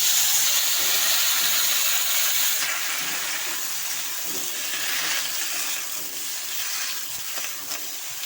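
Sliced ridge gourd and potato drop into hot oil with fried five-spice seeds and give off a steady, broad hiss and sizzle that holds close and fairly loud throughout, easing slightly after the first few seconds.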